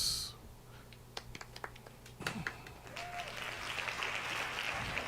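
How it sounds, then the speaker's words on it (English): Light, scattered hand claps from a small podcast audience, a few sparse golf claps that thicken into a soft patter of applause toward the end. "Hand claps."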